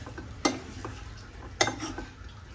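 Vegetables for a pizza topping sautéing in a pan: a faint, low sizzle under two sharp scraping strokes of a spoon, about a second apart, with no voices.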